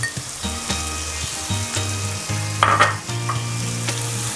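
Mixed vegetables with grated carrot frying in a pan give a close, steady sizzle, with scraping stirs and a few louder clatters of the spoon against the pan, and no talking.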